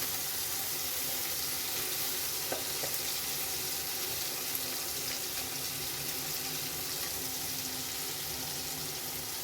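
Ground green masala paste going into egg masala frying in oil, giving a steady close sizzle with soft scraping and a couple of small clicks throughout, no talking.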